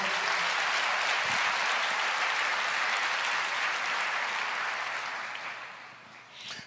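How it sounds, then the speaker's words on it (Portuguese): A church congregation applauds during a Portuguese-language worship service, dense sustained clapping from a full room that holds steady and then thins out toward the end. "Você pode aplaudir o Senhor?"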